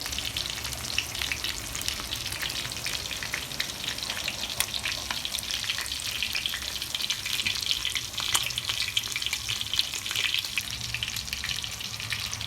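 Boneless chicken pieces frying on a hot tawa, a steady close sizzle and crackle running throughout with no talking.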